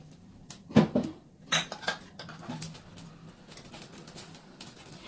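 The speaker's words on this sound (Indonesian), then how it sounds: "Tepung terigunya aduk-aduk seperti ini biar bersatu dengan bawangnya." Flour batter being stirred with onions in a cooking pan, a few sharp scraping and clinking spoon-on-pan strokes close up, clustered in the first two seconds, then quieter irregular stirring.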